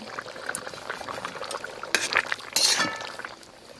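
Kohlrabi boils in a pot, giving a soft bubbling simmer with occasional clinks of a utensil against the pot and a few louder stirring and scraping bursts, close up and without talk.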